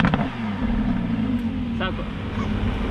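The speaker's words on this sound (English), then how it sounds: "This is the stock exhaust and it's crazy loud." A Lamborghini Huracan on its stock exhaust revs loudly close by in a showroom, a sustained engine roar, while people talk over it.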